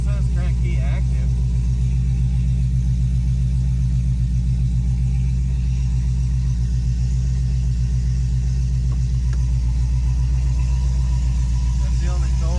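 A car engine idles steadily after a tune calibration, a low continuous rumble close and loud throughout, with a few faint clicks and noises over it.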